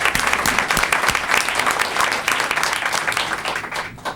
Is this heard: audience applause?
yes